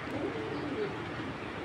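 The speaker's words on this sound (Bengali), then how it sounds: "এটা একটা মাদি কবুতর ভাই।" A female pigeon of Netherlands lineage gives a soft, low cooing murmur, faint and steady over the short moment, with no one talking.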